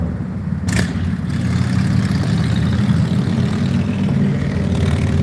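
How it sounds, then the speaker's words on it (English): Motorcycles idle and cruise along the Las Vegas Strip at night, making a steady low engine rumble that holds throughout with no voices. "Got some motorcycles."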